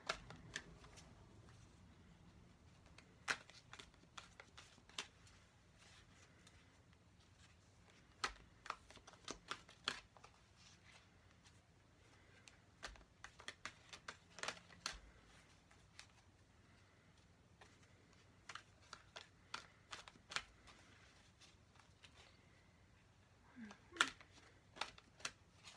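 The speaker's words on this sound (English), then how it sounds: "I shuffle however long I'm guided to do" Cards are shuffled repeatedly, with quiet riffling bursts and crisp snaps scattered irregularly over a near-silent background.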